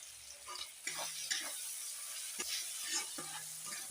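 Chopped onion, tomato and garlic dropped into hot fat left from cooking crabs, frying with a quiet sizzle and a few soft stirring scrapes and taps in the pan.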